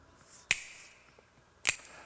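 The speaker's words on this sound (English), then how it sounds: "there's some cool finger snaps that come in, this nice bright percussive element that happens here" Two crisp, bright finger snaps in a music recording, evenly spaced about a second apart, each sharp and close with a short chamber-reverb tail, over a quiet backing.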